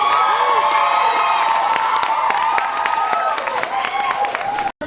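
Cheering and applause from a crowd at a cosplay competition, loud sustained clapping under whoops and shouts, with a voice rising over the noise before it cuts off abruptly at the end.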